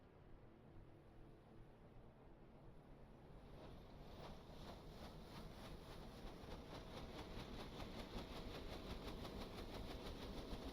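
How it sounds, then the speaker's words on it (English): A boat engine in the game Stormworks, on a commercial fishing boat, drones steadily and fills the whole stretch with a broad, continuous rumble. It grows gradually louder and busier as the engine speeds up, with no talking. "Here, we got a little engine noise on this too."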